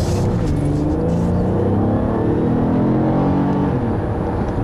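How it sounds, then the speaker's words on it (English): A 2014 Acura RLX sedan accelerates hard, its engine note rising steadily in pitch, loud and continuous from inside the car. "See here, acceleration for this car is pretty good"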